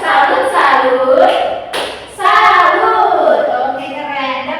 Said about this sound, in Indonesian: Tepuk tangan buat Dek Roli karena udah berani tanya. Kita tepuk salut dulu.